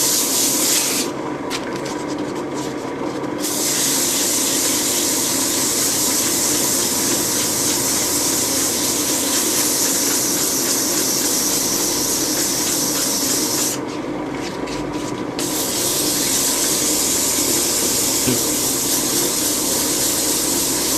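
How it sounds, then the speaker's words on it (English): A turned wooden bowl is hand sanded with 240 grit sandpaper, producing a continuous scratchy rubbing sound at close range. The sound pauses briefly twice. "So to give that a bit of a sand with the 240"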